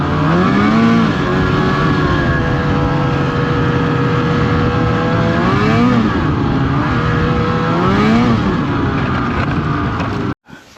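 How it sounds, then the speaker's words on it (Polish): Snowmobile engine at full throttle near Zakopane, a loud, close, sustained roar with rising and falling pitch as the revs surge, cutting off abruptly at the end. "To jest momentalnie odkręcony gaz ile pruniemy"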